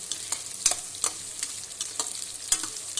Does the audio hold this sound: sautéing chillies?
yes